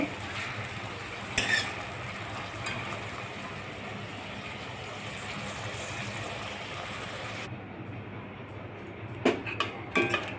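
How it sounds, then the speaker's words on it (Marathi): Tomatoes sautéing in a pan at home, a soft continuous sizzle and stirring hiss with occasional clinks of a utensil against the pan, faint throughout and quieter near the end. "5 मिनिट टमाटा परतून घेणे."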